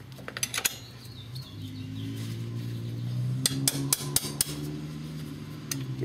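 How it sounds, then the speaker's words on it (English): Sharp metallic taps from a ball peen hammer on metal ring out in scattered bursts, a couple early and a quick cluster later, over a low steady hum, during ATV brake pad work. "get your favorite ball peen hammer and"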